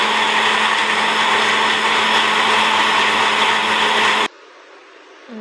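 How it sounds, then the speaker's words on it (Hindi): A blender grinds a cashew and almond milkshake with milk and sugar, a loud steady whir running evenly for about four seconds before cutting off abruptly into quiet. "अब हम इसे करेंगे ग्राइंड।"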